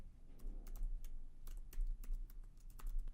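Keystrokes on a computer keyboard as a class name is typed in, a quick irregular run of close, crisp clicks over a low steady hum, with no talking.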